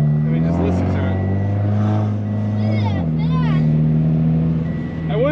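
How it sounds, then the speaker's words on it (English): A low-slung Subaru BRZ with a stage 1 tune and a full Invidia N1 exhaust drives hard, its loud, steady engine drone and exhaust note holding up close throughout while a person talks over it. "So this car is so low and so loud. It's like, I mean, just listen to it."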